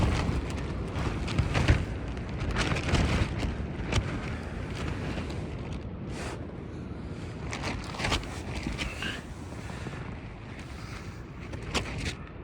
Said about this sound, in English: it's hella windy outside.